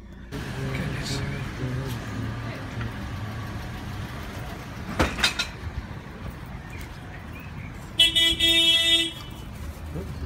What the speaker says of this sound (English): There's just cars flying around all over the place, man.